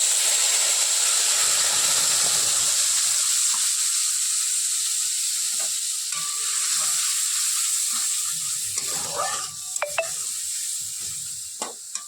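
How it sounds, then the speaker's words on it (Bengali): Cumin sizzles in hot oil for chhanar dalna. A constant bright frying hiss stays close throughout, with scattered clinks and scrapes of stirring toward the end. "জিরা দিয়ে দেবো।"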